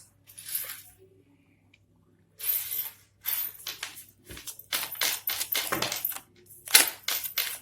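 Tarot cards are shuffled and slip from the hands in quiet, crisp bursts of papery riffling and slapping, broken by short silent gaps.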